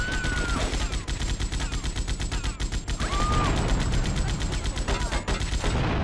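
Rapid bursts of gunfire in GTA Vice City Stories crack out in dense, near-continuous volleys, loud and close, with game sound effects mixed in.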